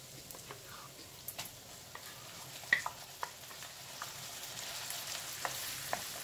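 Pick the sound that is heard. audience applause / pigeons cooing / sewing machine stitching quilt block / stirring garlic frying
stirring garlic frying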